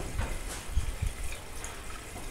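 Windshield washer fluid poured from a container into a car's wiper reservoir, a soft continuous splashing trickle with a few low gurgling glugs, close and fairly quiet.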